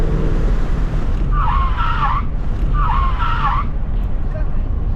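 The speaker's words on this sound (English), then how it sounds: "I'm gonna hit the brakes again, you ready?" A supercharged car without ABS braking hard, its tires letting out two separate loud squealing skids over a steady engine and road rumble.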